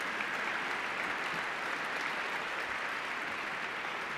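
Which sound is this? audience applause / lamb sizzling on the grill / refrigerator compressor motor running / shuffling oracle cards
audience applause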